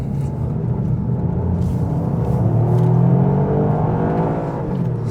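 A Toyota GR Yaris drives along a winding road with a steady, loud engine drone and road rumble, its pitch rising gently under throttle midway before easing off, with no voices.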